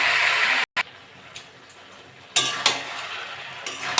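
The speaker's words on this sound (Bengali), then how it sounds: "ভালো করে মিশিয়ে নেবো পুঁই শাকগুলো" Malabar spinach with small shrimp and potato is stirred in a pan, a loud hiss cut by a brief silence, then a quieter sizzle with metallic scrapes and clinks of the spatula.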